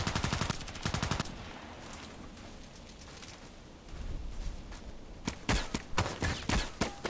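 Rapid bursts of sniper rifle fire from a DT SRS in the first-person shooter Contract Wars, loud sharp shots in quick clusters at the start and end with a quieter gap between.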